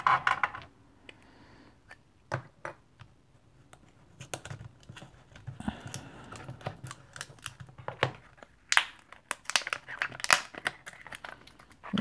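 Packaging around a sealing wax stick in the colour Eater Hill is opened by hand, giving close, irregular crinkling, tearing and tapping rustles over about twelve seconds, with louder bursts near the end.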